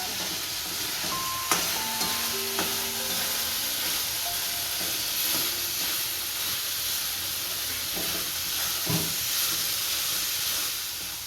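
Tomato masala with turmeric, salt, coriander-cumin powder and chili powder sizzles in a pan for sev bhaji, a soft, steady hiss broken by a few clinks and scrapes of stirring.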